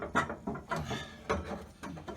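Plastic shifter bushing on a VW Super Beetle being worked into its socket, a few close, quiet clicks and scraping knocks in an irregular rhythm with short gaps between them.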